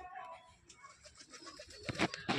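Pigeons coo softly in short, low bursts at a pigeon house, faint at first and growing a little louder near the end, with no talking.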